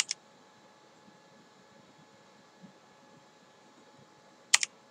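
A single sharp click of the 0 key on a computer keyboard, brief and crisp against near silence, with another faint tap at the very start.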